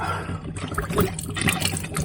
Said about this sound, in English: when I turn the tap on now, we got water at the tap now.